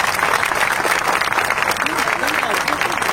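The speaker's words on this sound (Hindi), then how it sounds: "एक बड़ी ताली दे दीजिए" Crowd applause from several hundred people, loud and sustained dense clapping throughout, with a voice speaking underneath.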